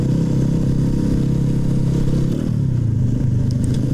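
A Daytona DY50 EFI 50cc moped engine runs loud and close, revving in a continuous throaty drone that dips briefly and picks back up, with no talking.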